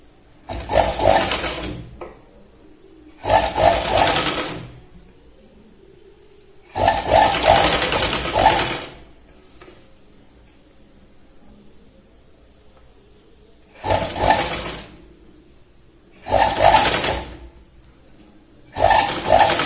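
Sewing machine stitching a boat neck kurti from the shoulder, six separate loud whirring runs of one to two seconds each, spaced by quiet pauses with faint fabric handling.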